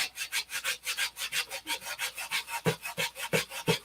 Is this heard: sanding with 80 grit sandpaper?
yes